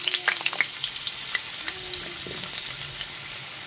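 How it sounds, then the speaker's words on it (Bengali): Cut potato pieces fry in mustard oil in a wok, with a lively crackling sizzle full of sharp pops that is loudest at first and then settles into a steadier frying hiss, with no one talking. "এরপরে কেটে রাখা আলুগুলোকে ভেজে নেব।"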